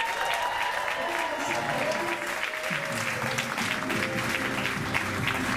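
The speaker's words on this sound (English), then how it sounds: "Let's give our two candidates a big round of applause." An audience claps for two candidates at a staged event, a steady patter of applause running under a musical bed and scattered voices.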